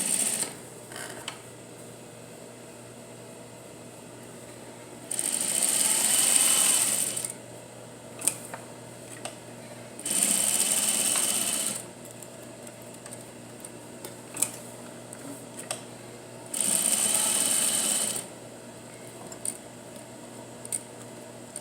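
Sewing machine edge stitching denim jeans: three bursts of fast, steady whirring and stitching, each about two seconds long, separated by quiet gaps with small clicks and handling noises.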